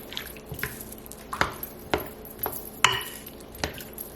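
Pasta being mixed in a casserole dish for a pizza casserole, a series of distinct clinks and wet scraping knocks at an uneven pace, close and fairly quiet.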